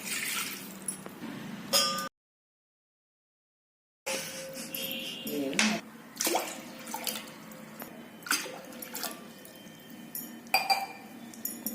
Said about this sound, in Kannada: ಅದ್ರೊಳಗೆ ನಾಲ್ಕು ಗ್ಲಾಸ್ ನೀರು ಹಾಕ್ತೇನೆ ರೀ ನೋಡ್ರಿ ಹಂಗೆ ಹಾಕಕತ್ತೀನಿ